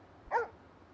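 A dog in the Yakuza 6 video game gives one short, sharp bark partway through, with faint game ambience before and after.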